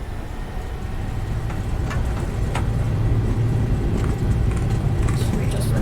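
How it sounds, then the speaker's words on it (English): Airliner engines spooled to full throttle in a flight simulator game, a steady loud low roar and rumble building slightly, with someone talking over it. "let's go ahead and get full throttle."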